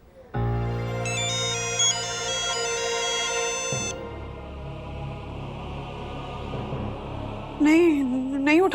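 A melodic phone ringtone plays loud and near for several seconds, then cuts off, followed by murmuring background noise and a brief voice before the tone resumes.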